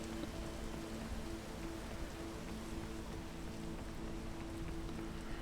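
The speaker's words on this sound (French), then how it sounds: "Moi, j'attends que la pluie s'arrête." Steady rain patters across surfaces in the mountain-climbing game PEAK, a dense continuous wash of drops with a faint low hum beneath it, even in loudness and with no voices.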